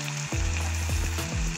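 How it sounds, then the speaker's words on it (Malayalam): Onion, tomato and green chili sizzle and fry in a pan while being stirred, a close, steady crackling hiss with a few scraping stir strokes and no talking. "നല്ലവണ്ണം ഒന്ന് വഴറ്റി കൊടുക്കണം. ഇനി ഇതിലേക്ക് പച്ചമുളക് ഇട്ട് കൊടുക്കാം."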